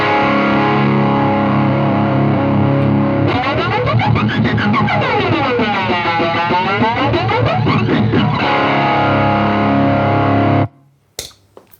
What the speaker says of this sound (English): So here's my drive tone.